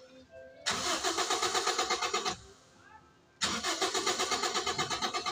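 Toyota Vios engine cranking without catching, two long bursts of rapid rhythmic starter churning separated by a short pause, close and loud.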